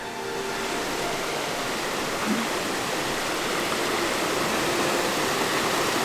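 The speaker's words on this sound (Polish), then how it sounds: "Tu jeszcze tą część potoku muszę przejść" A mountain stream in a boreal Norwegian forest in early spring rushes steadily over rocks, a continuous close broadband wash of flowing water with no voices.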